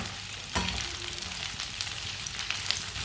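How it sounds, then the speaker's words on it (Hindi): Green chilies frying in mustard oil over medium heat, a steady close sizzle and crackle throughout with a few sharper pops, no talking. "सब्ज मिर्च को 2 मिनट के लिए फ्राई कर लेंगे।"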